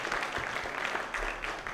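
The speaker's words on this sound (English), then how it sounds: "join me in giving Cashman and ourselves a huge round of applause" An audience at a human rights lecture breaks into applause, a brief burst of many hands clapping at a steady level.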